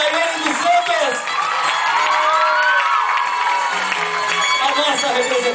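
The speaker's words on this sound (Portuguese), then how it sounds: "Uma salva de palmas para a Daiane dos Santos" A crowd cheering and whooping at a Brazilian gymnast's performance, loud and sustained, with shouts rising over the roar and an announcer's voice in it.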